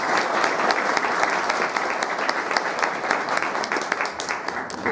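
Sustained audience applause for a doctor at a talk, dense steady clapping from a crowd lasting the whole stretch without letting up.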